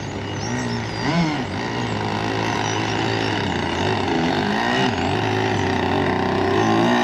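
An RC gas boat powered by a Zenoah 26cc two-stroke engine runs continuously, its buzzing, high-revving drone rising and dipping slightly in pitch as it cruises, fairly loud and steady with no talk.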